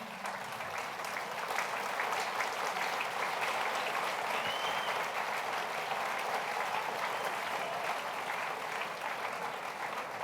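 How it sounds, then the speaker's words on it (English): Audience applause at a talk on Nigeria's strategic role in Africa, steady dense clapping from a large crowd filling the whole stretch without letup. "it is only the clapping that will encourage him."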